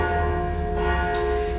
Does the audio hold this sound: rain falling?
no